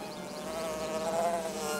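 Bees in a hive give off a steady hovering drone, a dense continuous buzz that swells slightly, close and fairly loud with no voices.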